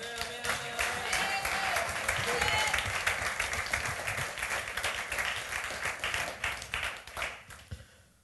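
A congregation at a French-language church service breaks into sustained applause and cheering, with steady dense clapping and raised voices throughout that thins out toward the end.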